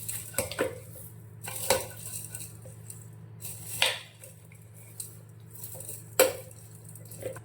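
Raw mango pieces being tossed with a heap of salt for Andhra-style pickle, with intermittent clinks and scrapes of a utensil against the bowl over a low steady background.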